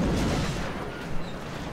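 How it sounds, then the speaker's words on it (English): A rocket fired in XCOM Long War bursts out as one loud, heavy boom at the very start, then quickly fades into a low rumbling tail. "I am going to rocket in there."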